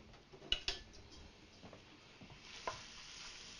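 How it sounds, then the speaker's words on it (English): Chopped bacon frying in a pot for a honey pot roast, a soft steady sizzle with a few sharp clicks of a spoon or utensil near the start and again later, fairly quiet throughout. "So I'm going to go ahead and put the bacon in. I've already chopped it up. You can hear it sizzle a little bit."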